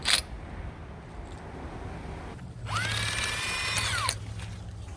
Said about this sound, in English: That tool is called a drill, power drill, and that really comes in handy for so many projects.